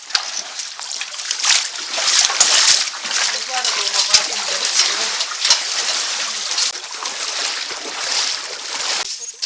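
Feet splash and slosh through shallow creek water in Wollangambe Canyon, with a continuous, close and loud watery churning that runs steadily throughout and voices speaking over it.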